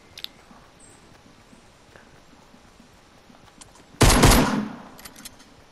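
Gunfire in Fortnite: a single loud, dense burst of rapid shots lasting about half a second, standing out sharply against a quiet background.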